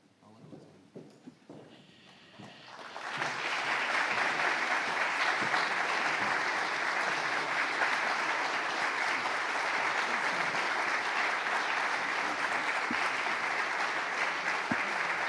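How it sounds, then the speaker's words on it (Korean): Loud sustained applause from a church congregation honoring retiring elders at a Korean thanksgiving and ordination service, rising after a few seconds of light claps and scattered noise and continuing steadily to the end. "인사하실 때 큰 격려의 박수, 위로의 박수 드리겠습니다"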